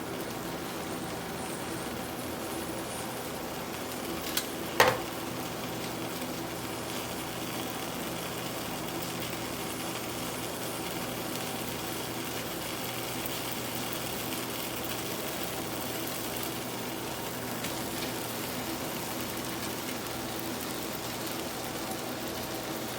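Zucchini cakes fry in a pan over medium-low heat, giving a faint, steady sizzle throughout with a single brief knock early on.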